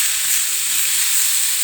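Cabbage tempered stir-fry sizzles loudly in a hot pan while being stirred, a steady, bright frying hiss that stays even and close with no pauses.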